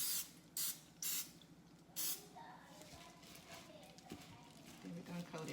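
Cooking spray hitting chicken wings in three or four short sharp hissing bursts early on, then quieter kitchen handling sounds while a person talks.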